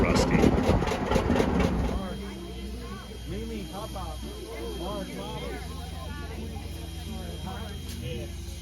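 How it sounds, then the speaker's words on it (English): A Plymouth switch engine locomotive dressed with a Rusty name and face idles with a steady low rumble, and voices and crowd chatter fill the first two seconds before the engine hum continues under faint background noise. "This is a Plymouth switch engine with a Rusty name and face."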